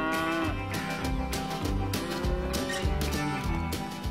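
Dairy herd cattle on a farm pasture moo in long, loud, drawn-out calls that overlap one another. The calls continue over a steady rhythmic background for the whole stretch.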